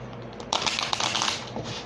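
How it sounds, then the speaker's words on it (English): Tarot cards shuffled by hand during a reading, a dense run of close papery riffling and flicking that starts halfway through and continues to the end. "Let's give it one more shuffle."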